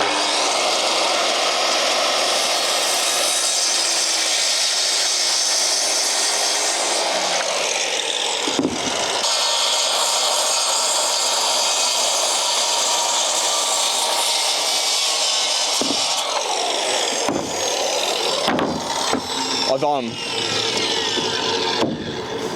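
Makita power saw cutting through two timber pieces at once, a loud continuous rasping whine that runs for long stretches, breaks off briefly around the middle and again near the end, with no voices.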